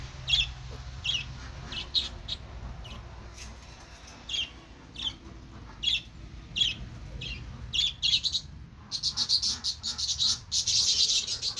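Small farm birds on a Polish poultry homestead chirp in repeated short bursts over steady low background rumble, the calls growing denser and louder toward the end.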